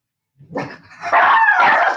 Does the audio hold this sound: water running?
no